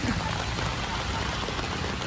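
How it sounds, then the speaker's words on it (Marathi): Heavy rain pours down in a steady, loud, even wash of broadband hiss with no break. "भरपूर जोरात पाऊस आले."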